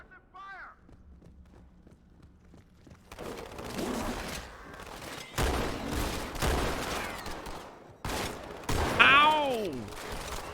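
Shotgun fire in Halo 2 comes as several loud, separate blasts with gaps between them, mixed with other game noise and a voice talking over the action.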